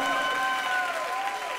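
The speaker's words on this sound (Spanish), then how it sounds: "Aplaudale fuerte al Señor." A church congregation claps loudly and steadily in worship, dense sustained applause from a crowd with tonal sound from music or voices mixed in.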